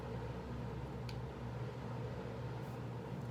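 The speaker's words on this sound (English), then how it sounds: "And the air conditioning is on. Loud and here for all to hear." Air conditioning runs indoors as a loud, steady hum and broadband whoosh, unbroken and constant throughout with no other sounds on top.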